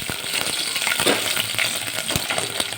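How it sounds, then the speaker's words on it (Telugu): Chillies dropped into a hot frying pan for mutton paya (goat leg bone) soup give a steady close sizzle and crackle of frying, with a few light clinks and stirring sounds throughout and no voices. "ఒక 4 మిరపకాయలు వేయాలి."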